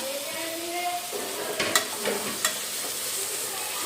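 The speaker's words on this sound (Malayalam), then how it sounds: "അതിലേക്ക് ഇനി ഒരു തക്കാളി ചെറുതാക്കി അരിഞ്ഞത് ആഡ് ചെയ്ത് കൊടുക്കാം" Chopped tomato hits onions already frying golden in a pan, giving a close, steady sizzle with a few sharp stirring scrapes and clacks partway through, with no talking.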